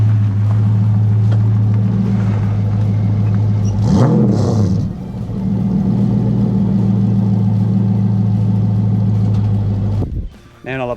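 A BMW E30 fitted with an LS1 V8 runs with a deep, loud, steady rumble, briefly rising in a rev midway, then cutting out near the end with a short voice over it.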